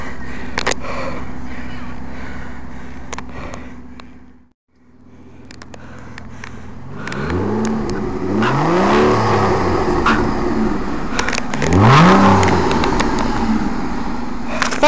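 Black Aston Martin DB9 Coupe revving loudly: a steady rumble, a brief drop to near silence, then repeated rising and falling revs, several sweeping blips with the last the strongest, under faint background voices.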